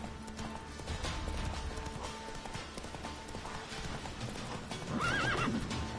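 Geralt's horse Roach in The Witcher 3: Wild Hunt clip-clops along a riding path strewn with branches, with steady rhythmic hooves throughout and a loud whinny near the end.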